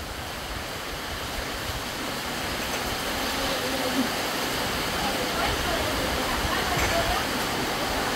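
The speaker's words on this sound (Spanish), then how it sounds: "se vino la lluvia" Heavy rain pours steadily in Jabalí, a broad, constant hiss and rush that holds at a fairly loud level throughout, with no clear pauses.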